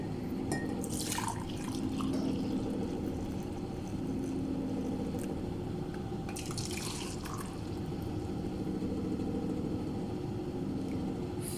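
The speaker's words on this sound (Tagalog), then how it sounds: "So ibubuhos ko na para maging cappuccino na siya." Coffee poured into a cup for cappuccino, a soft trickling of liquid that comes in two brief bursts over a low steady hum of background noise.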